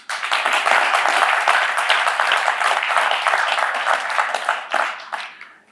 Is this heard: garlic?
no